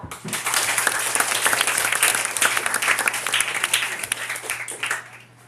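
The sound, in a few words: audience clapping to welcome the school principal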